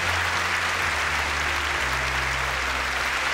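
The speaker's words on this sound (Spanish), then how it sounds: "Aplausos para Jesús, gloria a Dios." A studio audience at a Spanish-language faith show claps steadily in dense, continuous applause, fairly loud and close, with no pauses for the whole stretch.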